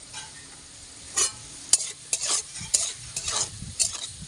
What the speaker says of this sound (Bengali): এবারে হলুদটা দিয়ে 1 মিনিট নাড়াচাড়া করে আলুটা নামিয়ে দেব